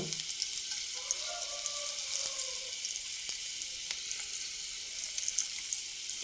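Urad dal and cumin seeds sizzle in hot oil for a Telugu raw banana and moong dal curry, a steady hiss running throughout with a few faint clinks.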